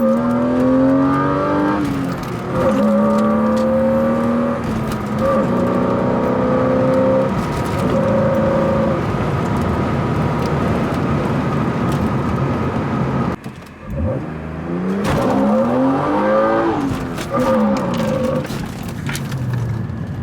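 A BMW E36 M3 engine pulls steadily while driving, a loud, close drone with rising revs through several gear shifts and a brief lift-off before accelerating again.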